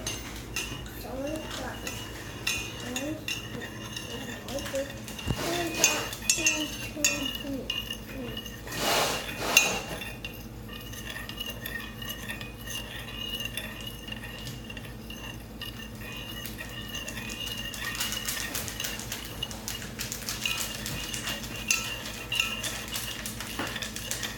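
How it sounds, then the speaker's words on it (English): A metal spoon stirs borax into water in a container, with repeated close clinks and scrapes against the sides, busiest in the first half, then a quieter steady hum. "So you've got a spoon to stir with"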